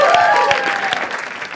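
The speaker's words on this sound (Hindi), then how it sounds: "एक बार जोरदार ताली for अपूर्वा also." Studio audience at a comedy talent show bursts into loud, dense applause, a steady wash of clapping with a few whoops on top and a gradual fade toward the end.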